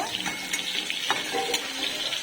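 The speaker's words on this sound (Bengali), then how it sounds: "পটল আলুটা হালকা ভেজে নিই" Pieces of pointed gourd and potato are lightly fried in a pan, giving a soft continuous sizzle with a few faint stirring clicks and no one talking.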